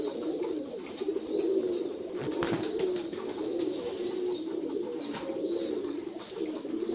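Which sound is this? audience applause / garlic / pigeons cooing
pigeons cooing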